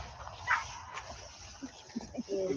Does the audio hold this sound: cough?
no